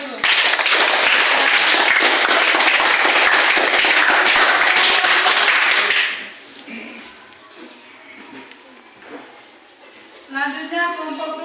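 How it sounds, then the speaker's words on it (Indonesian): A classroom audience applauds a presenting group during a teachers' coaching session, a loud dense burst of clapping for about six seconds that cuts off into quieter room sound and voices. "Tepuk tangan untuk kelompok 1 dulu."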